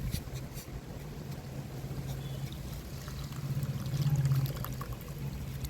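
Soaked tamarind juice is poured into a fish curry, a soft, continuous liquid trickle heard close and fairly quiet, swelling slightly toward the end.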